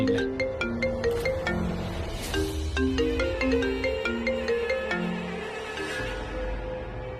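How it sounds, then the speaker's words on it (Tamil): A melodic phone ringtone plays steadily for several seconds in a Tamil TV serial scene, a bright repeating tune with layered tones, fairly loud and without talk over it. "இந்த ரிங்டோன் யாச்சும் சேஞ்ச் பண்ண"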